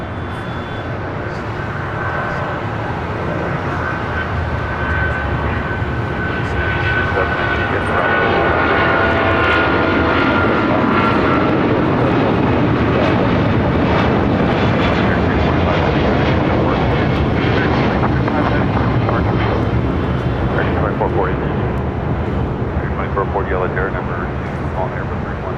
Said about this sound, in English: This flight heading to Miami, 777-200ER with American.